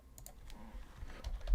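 Quick bursts of faint, light key clicks from someone typing on a computer keyboard, close and soft with low background noise and no speech.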